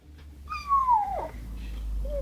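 A boy imitates a cat with one rising and falling meow, close and clear, followed by a short higher squeak against a quiet room.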